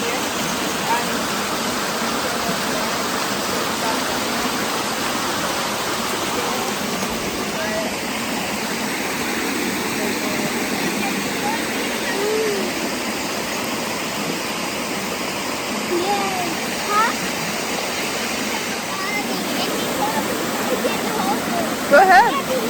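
Steady rushing and splashing water flows continuously, close by, with faint voices now and then beneath the constant churn.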